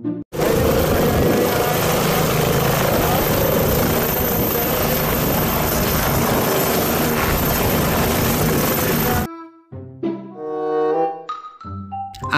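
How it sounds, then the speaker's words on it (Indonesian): A toy helicopter gives a loud, steady whirring drone for about nine seconds, then cuts off abruptly as a voice starts talking. "Coba lihat, ada helikopter."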